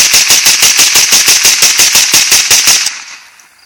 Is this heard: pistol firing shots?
yes